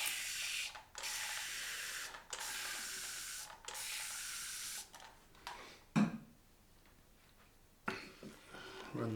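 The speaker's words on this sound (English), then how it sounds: "Let's put a bit more water in here." Water hisses into a shaving bowl in several short, repeated bursts separated by brief pauses, close and fairly quiet, with a few soft knocks in between.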